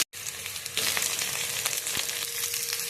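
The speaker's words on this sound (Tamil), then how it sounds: "கொஞ்சமாக எண்ணெய் ஊற்றிக்கலாம். கடுகு, வெங்காயம்," Mustard seeds and onion frying in a little oil, a dense, loud sizzle that swells after a brief silent start, with faint crackles and an occasional stir, close up and without speech.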